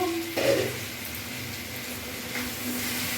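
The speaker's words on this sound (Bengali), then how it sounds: "আমার খুব সুন্দর মশলার সাথে ভালোভাবে ভাজা হয়ে গেছে" Potatoes and carrots frying with spices in a pan, a steady soft sizzle with a brief louder clatter of stirring near the start, close and continuous.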